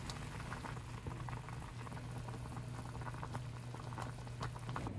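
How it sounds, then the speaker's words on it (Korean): Instant Otongtong-myeon ramen noodles boil in a pot with a steady, close bubbling roll and faint low hum, continuous throughout with no talking. "라면 끓이고 있어요."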